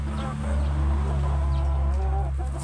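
Kabir chickens about five months old and ready to breed cluck softly on a farm, a steady low murmur of fowl calls with a few faint higher notes throughout.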